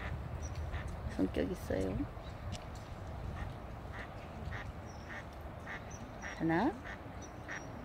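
Mallard and spot-billed ducks quack in short bursts, a couple of close calls early and a louder run near the end, over outdoor background noise while people talk.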